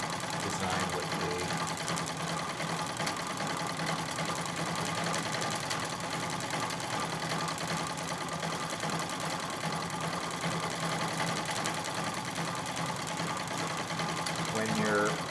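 A Singer 66 treadle sewing machine runs steadily while free motion quilting, a continuous close, even mechanical whirr and rapid needle chatter that keeps going without a break.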